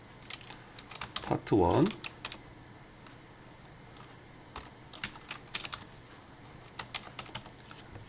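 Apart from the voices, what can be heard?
typing on a computer keyboard, pressing Ctrl+G in Photoshop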